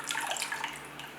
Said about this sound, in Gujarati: હવે ફુદીનાને પણ આપણે આ રીતે પાણીથી ધોઈ લઈશું।